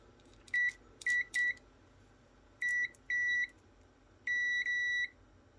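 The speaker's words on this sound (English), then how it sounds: "it beeps very momentarily, but yeah, they're definitely not connected" Several short electronic beeps from a connection tester probing solar charge controller wiring, some single and brief, others held longer, clear and close against a quiet background with no talking.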